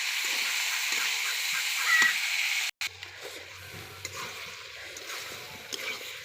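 Boiled lentils with chili and spices fry in a pan, first with a steady hiss and sizzle, then a sudden clatter and quieter scraping and stirring with faint crackles.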